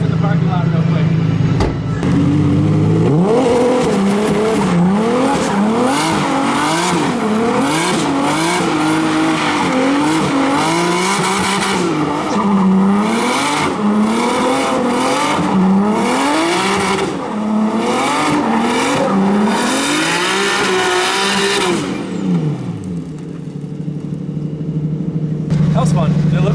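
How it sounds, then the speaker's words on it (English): A Nissan Skyline spins donuts in a parking lot, its engine revving in continuous wavering sweeps while the tires squeal loudly and steadily for about twenty seconds before the car settles and the noise drops away. "How could we not seize the opportunity to do a couple donuts in the parking lot real quick?"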